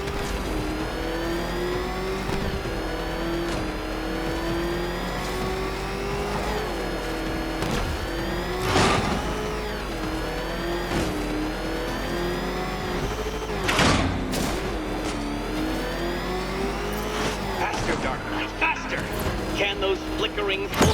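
The Batmobile engine in Batman: Arkham Knight drones and rises steadily throughout, with revving swells and sharp bursts, under a continuous voice talking over it.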